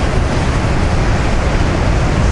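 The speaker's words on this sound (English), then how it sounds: "Look at this surf, will you?" Loud, continuous roar of crashing Pacific winter storm surf on the California coast on a rainy January day fills everything, a dense wash of churning water with wind, no voices.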